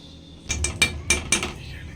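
A metal spoon clinks and scrapes against a pan while stirring semolina roasting in ghee for rava laddu, several sharp taps in a short cluster over faint background hum.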